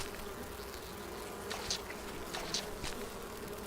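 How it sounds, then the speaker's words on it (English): Bees in the video game Enshrouded give off several short buzzing bursts over a low, steady hum. The buzzes are soft and come and go, as if the insects are drifting nearby. "I'll leave the bees."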